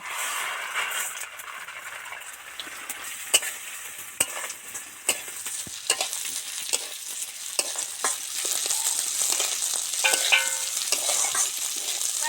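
Dal frying in hot oil with dry red chillies, bay leaves and panch phoron, a steady close sizzle broken by sharp stirring scrapes and clinks, with no talk.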